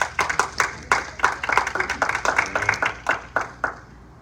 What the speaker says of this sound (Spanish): Dale el aplauso fuerte al Señor.